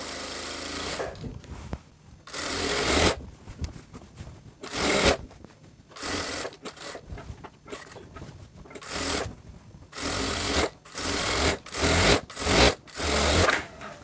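A sewing machine stitches the side seam of a georgette kameez in repeated loud bursts of mechanical whirring, separated by short pauses while the fabric is repositioned.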